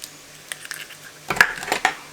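A spoon mixes sugar, applesauce and an egg in a small bowl, giving a quick run of close clinks and scrapes after a near-silent start.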